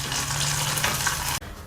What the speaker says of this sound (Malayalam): അപ്പോൾ നമുക്ക് ഈ കടുക് വറുത്തത് ഇതിലോട്ട് ആഡ് ചെയ്ത് കൊടുക്കാം.